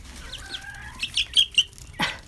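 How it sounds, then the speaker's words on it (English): A young silkie chicken peeping and clucking nearby, a series of short high chirps spaced irregularly, ending with a louder squawk. "I've got to show you how big my silky chick has got."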